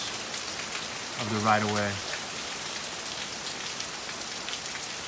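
Steady rain falls on a freshly mulched front yard, a constant hiss throughout, with someone briefly talking over it.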